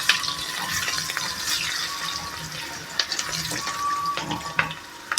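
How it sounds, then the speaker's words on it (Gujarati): Turmeric tipped into hot tempering oil for khaman dhokla sizzles and crackles steadily, a close, continuous frying hiss with occasional sharper pops and no talking. "આપણે વઘારવામાં હળદર નાખીએ"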